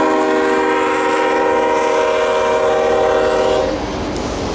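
A loud train horn blares steadily in long sustained tones over the rumble of a passing train in Mojave, California, then cuts off as the rolling rumble continues.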